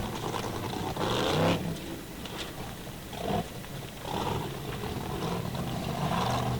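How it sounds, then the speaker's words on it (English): Formula Offroad race car with a big block engine roaring and revving hard on an offroad track, a loud continuous engine drone with surges as it climbs a ridge, no talk over it. "Big block engine."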